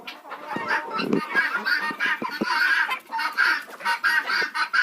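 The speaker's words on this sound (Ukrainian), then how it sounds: "Тепер тільки одна курочка сидить." Hens in a village coop cluck continuously and close by, an overlapping run of short, busy calls with no pause and no human voice.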